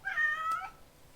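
A single clear cat meow, close and fairly loud, rising and then falling over about half a second, with quiet indoor room tone after it and nobody speaking.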